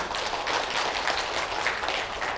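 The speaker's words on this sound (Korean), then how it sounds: "큰 박수로 맞아주시기 바랍니다" A museum lecture audience applauds to welcome a history professor onto the stage, a moderate, even patter of many hands heard from some distance.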